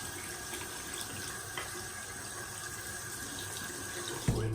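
Sink tap running as a part is rinsed off, a soft, steady hiss of flowing water close by, with a brief louder splash or clunk near the end.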